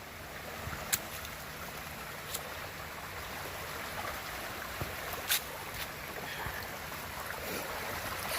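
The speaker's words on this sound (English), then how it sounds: "You hear that? Yep, another creek crossing." Creek water runs steadily at a stream crossing on a wooded hiking trail in Georgia, a soft continuous rush heard fairly near with a few brief knocks and taps on top.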